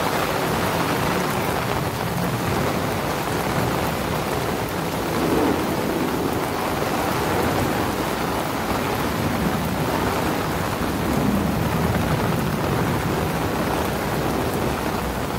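Steady rain falls across a sky park, a dense, even hiss of drops on surfaces that stays constant throughout with no voices.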